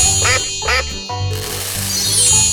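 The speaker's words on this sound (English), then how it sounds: "Duck." Cartoon duck giving two quick quacks, then a bright chiming jingle over a bouncy music background.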